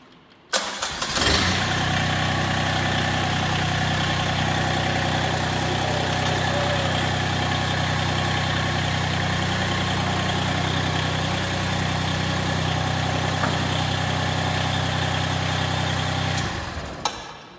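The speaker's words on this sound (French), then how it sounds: "il va falloir que je démarre le moteur" A Massey Ferguson GC1705 tractor engine cranks and catches, then settles into a steady, loud idle that runs for over fifteen seconds before cutting off.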